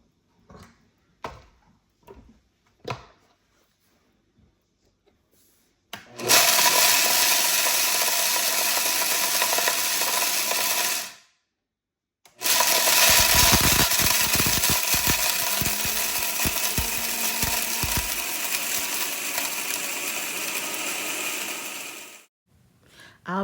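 Home grain mill grinding dried corn into cornmeal, a loud, harsh mechanical grinding roar after a few sharp clicks, running in two long bursts separated by a short pause.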